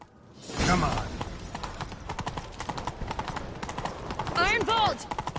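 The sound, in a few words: horse galloping hooves, video game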